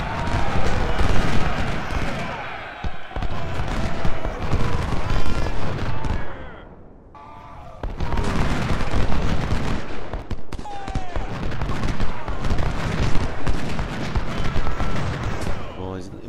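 Dense, loud volleys of gunfire and booming cannon blasts in the video game Ultimate General: Civil War, Battle of Franklin, roll on almost without pause, dropping briefly before the barrage resumes, with a voice speaking beneath.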